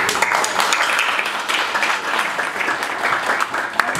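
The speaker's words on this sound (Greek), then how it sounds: "αξίζει ο στρατηγός ένα ζεστό χειροκρότημα" Warm, dense applause from an audience honouring a general, a steady wash of many hands clapping together, sustained and fairly loud from start to finish with no voices.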